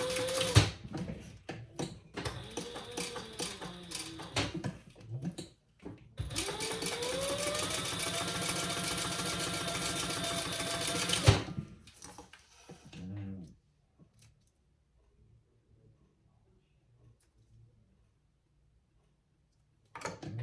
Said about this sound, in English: I'm just stitching 1/8 of an inch from each side